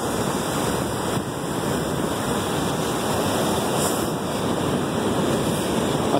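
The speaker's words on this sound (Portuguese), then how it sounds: "Aqui o chão já está bem mais molhado, quer dizer que o spray já chega com mais força aqui, com mais água." Ocean surf and spray crash at Costa da Caparica beach in Portugal, a loud, continuous roaring wash mixed with gusty wind buffeting the microphone, with no voices.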